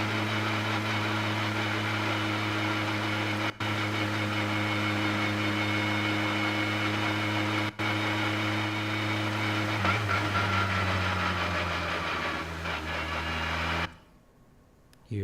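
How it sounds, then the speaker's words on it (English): Car engine heard without any exhaust sound, a close, steady tonal drone that later shifts in pitch as revs change, then cuts out abruptly near the end with a short pause before resuming; no speech. "So no exhaust sounds,"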